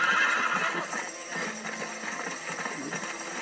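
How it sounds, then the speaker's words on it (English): A horse being ridden across desert terrain in the video game Red Dead Redemption, steady clip-clop of hooves with a whinny near the start, close and continuous, with a faint music bed under it. "Riding in the desert on a horse"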